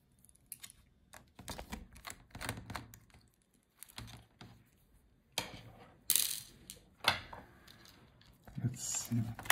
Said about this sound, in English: Now unscrew a few screws for the motherboard and we should be able to take it out.